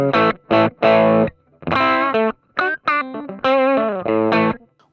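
Electric guitar on the rear pickup through a Valeton GP-5 set to a Tweed Deluxe-style pushed clean amp tone, playing short chopped chords and bright ringing phrases with slight grit, dry and alone.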